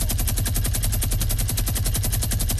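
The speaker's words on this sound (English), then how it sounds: "Who's shooting?" Rapid, continuous automatic gunfire in Fortnite rattles loudly and evenly throughout, with shots fired in a tight machine-gun rhythm.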